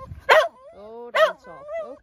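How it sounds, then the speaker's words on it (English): Dogs resting on tie-out spikes at a farm campsite give two short sharp barks, each followed by a drawn-out tonal whine or whimper, close by, with some voice-like sound mixed in. "The dogs are on the spikes, just chilling."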